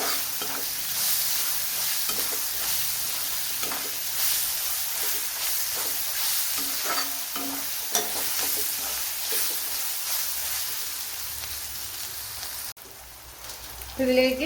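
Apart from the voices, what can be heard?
frying onions and curry leaves in a pan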